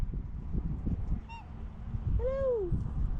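A red-beaked swan on a lake gives a short nasal honk followed by a longer, louder trumpeting call, heard over low outdoor rumble and wind.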